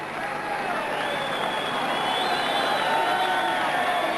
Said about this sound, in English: the whole crowd in this leisure centre at Ebervale standing and applauding and appreciating 2 very fine young men